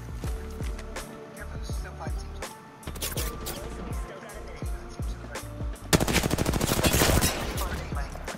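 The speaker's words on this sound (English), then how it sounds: "Bro, look, there's still shooting!" Gunfire in the game Apex Legends, rapid automatic bursts and single shots at close range, intensifying into a sustained loud volley near the end, with voices talking over it.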